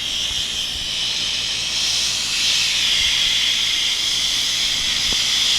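An adjustable air blower hisses continuously and loudly, clearing dust off a sandblasted sign, the steady rush swelling slightly midway, with a couple of faint knocks underneath and no talk.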